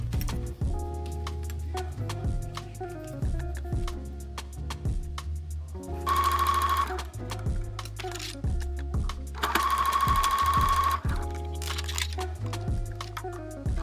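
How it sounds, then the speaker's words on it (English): A sewing machine stitches bias binding onto a neckline in short repeated bursts of rapid mechanical clatter, with two longer louder runs, close and clear without talk. "Sew and give a nice press."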